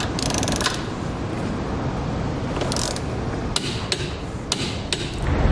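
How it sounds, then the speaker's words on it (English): A torque wrench tightening trailer hitch bolts on a 2014 Toyota Sienna during a Curt hitch receiver install, giving a run of metallic ratcheting clicks and sharp snaps that grow more distinct toward the end, close and fairly loud. "we can then use a torque wrench to torque it all down to the proper specification"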